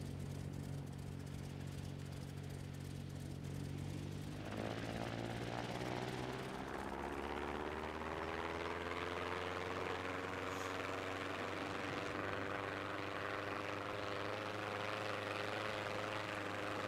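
Steady drone of a propeller airplane engine fills the cabin throughout, its pitch rising and shifting partway as power increases, loud and continuous with no talking.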